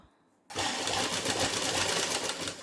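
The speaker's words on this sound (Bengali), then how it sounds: "এই ডান দিকে সেলাই করে নেব।" A sewing machine stitching a padded blouse starts abruptly after a brief quiet moment, then runs continuously with a fast, steady mechanical whir close by.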